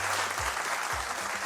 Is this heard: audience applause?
yes